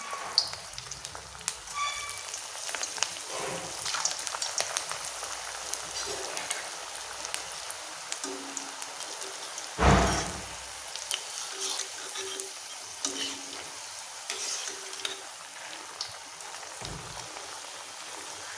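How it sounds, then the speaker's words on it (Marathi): Vadas dropped into hot oil to deep-fry, a continuous rain-like crackle and bubbling with a louder gush near the middle as one is added, heard close and without speech. "तेल गरम झालेलं आहे यामध्ये मी वडा सोडून घेते"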